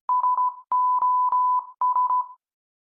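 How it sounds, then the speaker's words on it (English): An SOS distress signal sent in Morse code as clean electronic beeps, three short, three long and three short tones in an even rhythm, loud and alone. "SOS in the Morse code."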